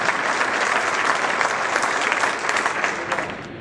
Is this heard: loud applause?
yes